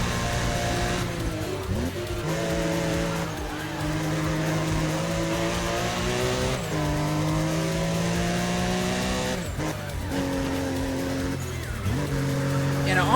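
Race cars in the video game Need for Speed ProStreet scream through gear changes with repeated tire squeals and skids, engine pitch rising and dropping in waves, with someone talking over the action.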